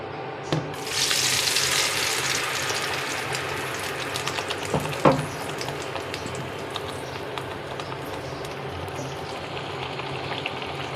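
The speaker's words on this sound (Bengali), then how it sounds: "তেল গরম হয়ে গেছে, এবার ব্লেন্ড করে রাখা উপকরণগুলো দিয়ে দিব।" Blended spice paste for a bhorta hits hot oil with a sudden loud hiss that settles into a steady, softer sizzle, with a small clatter partway through.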